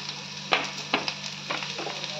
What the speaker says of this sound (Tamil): நல்லா வதக்கிக்கோங்க.